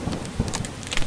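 Rain falls steadily in the modded Starbound video game, a dense continuous hiss with a low rumbling underneath, close and fairly loud throughout the short stretch.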